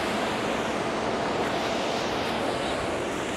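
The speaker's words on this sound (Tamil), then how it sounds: "இந்த பக்கம் வாட்டர் ஃபால்ஸ் மாதிரி ஒழுகுது" Water spills and trickles down a rock face like a small waterfall on a forest trekking trail at Valparai, a steady, close rushing wash with no pauses, alone with no voices.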